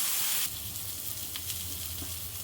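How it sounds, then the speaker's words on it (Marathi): Surmai (kingfish) fillets shallow-frying in a pan, a steady close sizzle with a louder burst at the start that then settles into an even hiss. "दुसऱ्या साईडने सुद्धा दोन ते तीन मिनटं आपण तळून घ्यायची आहे"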